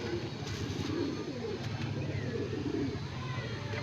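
Pigeons cooing at a summer flying tournament in Bareilly, UP, a soft steady murmur of calls blended into continuous outdoor background noise, with faint bird sounds throughout.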